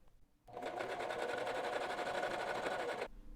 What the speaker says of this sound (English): we're going to sew that down, finish it with a zigzag stitch or a serger